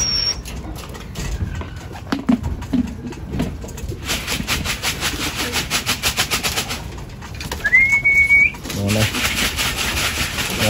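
Racing pigeons coo close by during training amid rustling and fluttering, with steady background noise and faint voices now and then.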